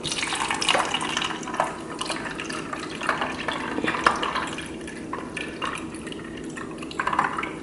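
Liquid hummingbird nectar streams through a funnel into a feeder with a steady close trickling gurgle, punctuated by small splashes and drips.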